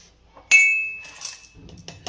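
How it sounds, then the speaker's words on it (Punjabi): Camphor being pounded into powder: a sharp, ringing clink rings out and fades, followed by a few softer, dull knocks close by. "ਕਪੂਰ ਨੂੰ ਆਪਾਂ ਕੁੱਟ ਲਾਂਗੇ"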